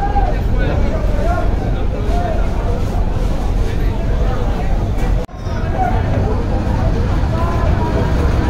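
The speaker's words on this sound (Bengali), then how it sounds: "ঘুরে যাচ্ছে অ্যাডভেঞ্চার 1 লঞ্চ বরিশাল থেকে।" A Bangladeshi passenger launch, Adventure 1, travels from Barisal through a Kalbaishakhi storm with heavy rain, giving a steady loud rumble of engine, wind and water that runs unbroken apart from a brief dropout, with faint voices mixed in.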